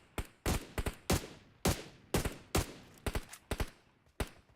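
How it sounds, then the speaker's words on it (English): Gunfire in a PUBG Mobile esports match, a series of sharp separate shots and short bursts at irregular intervals, some louder and closer, with no speech. "9Z taking shots out towards Papra Supermassive"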